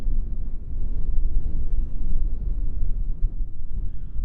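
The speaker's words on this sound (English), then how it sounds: "Nothing but the wind out here." Wind blowing across open desert near Leeland, Nevada, a low buffeting rush gusting unevenly into the microphone, moderately loud with no other sounds.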